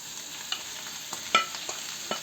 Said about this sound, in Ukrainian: і його розмішуємо гарно. Щоб він підсмажився разом з цибулькою, перцем і чесничком.